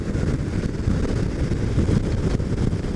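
Steady, heavy wind buffeting a microphone on a bike ridden through open countryside with a 10-15 mph southwest wind, a constant low roar that stays loud and unbroken throughout.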